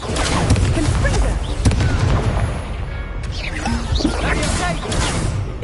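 A Confringo fire spell bursts in a wizarding video game, a blast among other crashes and whooshes of spellcasting, with a player talking through the fight.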